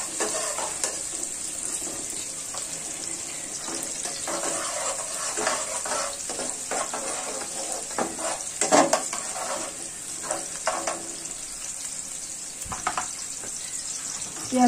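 Onion fries in a pan with a constant sizzle, stirred now and then so the spoon scrapes and taps lightly over the crackle, with no speech.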